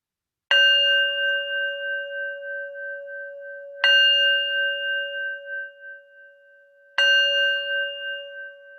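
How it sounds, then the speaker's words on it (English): Meditation bell struck three times at even intervals, each strike a bright clear ring that sustains and slowly fades, with near silence between. "I'll start with the bell this time."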